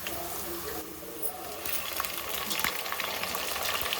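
Washed chicken pieces fry and get stirred in a pan with onions and green chillies, a steady close sizzle with scraping stir sounds growing slightly louder.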